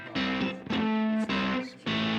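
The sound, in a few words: Chase Bliss fuzz pedal guitar tone, high bias, violin-like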